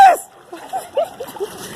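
Splashing through dirty rainwater on a flooded street in Karachi during heavy rains: a sharp close splash at the start, then softer intermittent sloshing and faint background sounds.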